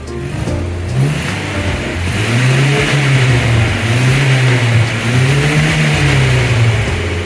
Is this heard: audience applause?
no